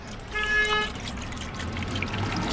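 Water is poured while coffee is being made, a close, gentle pouring trickle with a brief rising tonal ring near the start before it settles into soft liquid noise.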